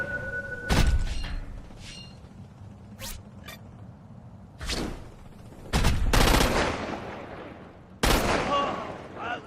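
Gunfire in the game Crackdown 2 as explosive barrels are shot: several sharp, loud bursts and blasts separated by quieter gaps, with crackling debris after the later explosions.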